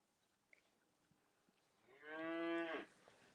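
A single cow on a beef farm lets out a clear, drawn-out moo in the middle distance against a quiet barnyard background, with a few faint knocks before it.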